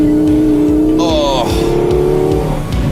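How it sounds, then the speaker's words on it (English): Lexus LFA engine revving hard with a steady rising drone and quick pitch sweeps, loud and close from inside the car, with a person talking over it throughout. "no mechanical tack needle could keep up with how fast this engine actually revs"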